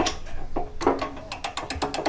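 A torque wrench set to 30 foot-pounds tightens a bolt with a run of quick, close ratcheting clicks that speed up toward the end.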